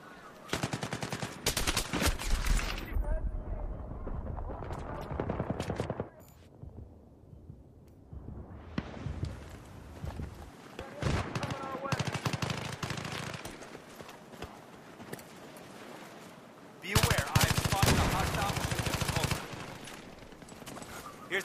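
Dense automatic gunfire in a Battlefield 3 team deathmatch on Wake Island. Near and distant rifle bursts keep overlapping, with a brief lull part way through and a heavy, loud volley near the end.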